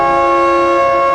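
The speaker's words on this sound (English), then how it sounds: "A musical siren from Japan." A Yamaha musical siren from Japan holds a loud, steady, sustained tone rich in harmonics, sounding alone without any voices.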